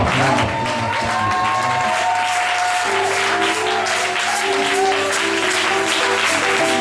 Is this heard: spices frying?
no